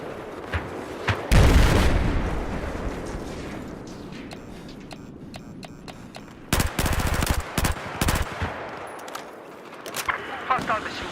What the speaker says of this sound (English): Hostile machine gun south of your position.